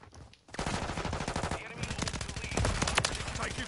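Rapid bursts of automatic gunfire from the video game Modern Warfare 3, loud and dense, nearly continuous after a brief quiet start, with a player's voice talking over the shooting.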